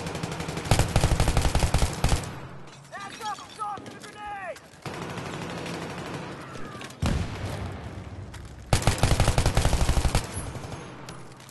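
Battlefield 3 gunfire: loud bursts of automatic rifle fire come in clusters, separated by quieter stretches of in-game ambience and faint chatter, with a heavy sustained volley near the start and another toward the end.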